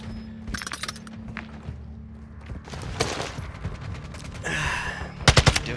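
Gunfire in Call of Duty: Warzone multiplayer: bursts of automatic weapon fire and scattered shots over game noise, ending in a loud quick volley close by, with no clear talk.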